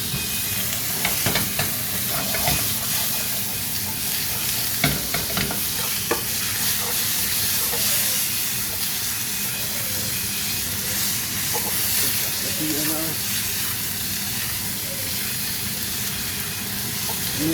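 A T-bone steak searing in a pan with butter gives a steady, continuous sizzle and hiss throughout, with scattered small crackles and spits and no talking.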